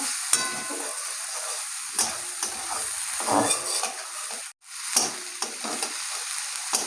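Onions and tomatoes fry in a pan under a bright, continuous sizzle, with spatula stirring strokes scraping through at irregular intervals and one brief gap.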